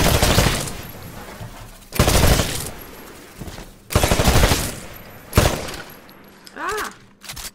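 Rifle fire at a shooting range in the video game Titanfall: four loud bursts of rapid automatic shots, roughly two seconds apart, with clattering impacts between them and a short electronic chirp near the end.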